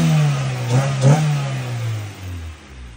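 A Honda D15B car engine runs close by with a steady low drone, briefly revving twice before settling back toward idle.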